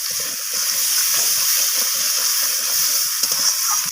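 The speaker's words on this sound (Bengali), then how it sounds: "তো আলুগুলোকে দিয়ে মশলার সাথে আমি কষিয়ে নিচ্ছি।" Fried potatoes sauté with spice masala in an oiled pan, giving a loud, constant sizzle and hiss with soft stirring scrapes throughout and no voices.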